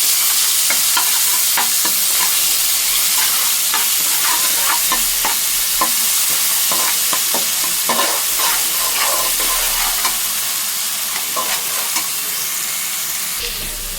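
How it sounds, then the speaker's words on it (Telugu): Ground tomato and onion paste fries for mutton curry in a steady loud sizzle and hiss, with scattered scrapes and taps of stirring throughout, close by and without talk. "దీన్ని బాగా వేయించుకోవాలి"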